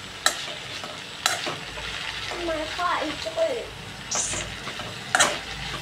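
Soya noodles fry in a pan while being stirred, with sharp clanks of the spatula against the metal at intervals over a low sizzle, and voices talking briefly in between.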